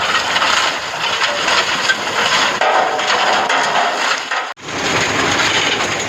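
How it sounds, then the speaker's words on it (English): Oversized gravel from an underground sapphire mine rattles continuously down a sorting chute, a loud, dense clatter with a brief dip near the end before it resumes. "And the oversized rattling its way down this other chute."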